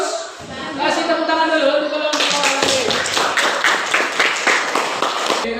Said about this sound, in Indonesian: Kasih tepuk tangan dulu untuk kelompok Al-Alim